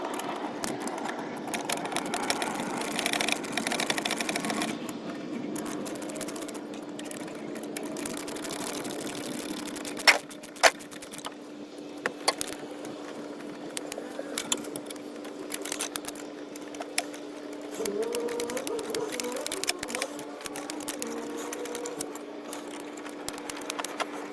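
Bolts come out of the transmission mount on a 2018 Volkswagen Atlas 3.6L while a jack supports the transmission. A whirring, humming power tool drones steadily with scattered sharp clicks and knocks of metal in a garage. No one speaks.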